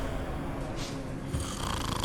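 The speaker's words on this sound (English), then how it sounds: "He's snoring." A person snoring, a couple of faint raspy breaths close by against a noisy background, short and soft.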